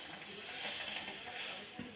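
A soft, steady hissing sizzle of dough frying on a hot pan, continuing evenly at low volume.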